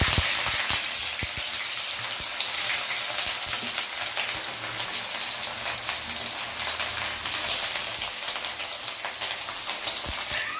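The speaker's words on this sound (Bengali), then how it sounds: "আমাদের তেল গরম হয়ে গেছে, এর মধ্যে আমরা পেঁয়াজ কুচি দেব।" Chopped onions hit hot oil in a pan and sizzle loudly and steadily, a dense crackling hiss with small pops running the whole time, with no voices over it.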